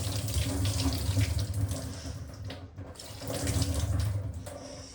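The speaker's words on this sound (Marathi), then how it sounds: "आपण मशरूम वॉश करून घेऊ." Mushrooms rinsed under a running kitchen tap, water splashing steadily into the sink with a brief dip in flow midway, close and continuous with no talk.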